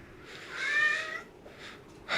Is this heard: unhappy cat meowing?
yes